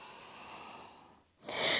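A long, soft breath exhales during a yoga forward fold, followed by a short, sharper rush of air. The sound is close and quiet, with no voices.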